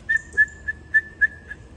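A man whistles to imitate someone's whistle: six short, clear, high-pitched toots on the same note in an even rhythm, close and alone.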